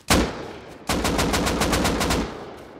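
Gunfire in the online survival game Rust: a loud single shot, then after a short pause a sustained rapid burst of automatic fire with evenly spaced cracks, close and alone.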